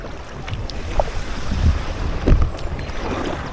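An inflatable kayak pushed through thick weed on a canal, a steady wet swishing and rustling drag with small splashes, close to the microphone over wind noise.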